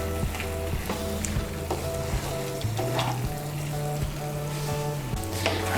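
Fried potatoes are stirred into sizzling masala in a pan for Kashmiri aloo dum, giving a steady frying hiss broken by scraping stirs, with a low sustained tonal background underneath.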